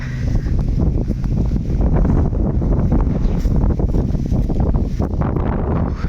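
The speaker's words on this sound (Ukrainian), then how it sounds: "Вітер такий добрий." Strong wind buffets the microphone with a constant loud rumbling roar, gusting throughout without pause, during a soybean harvest.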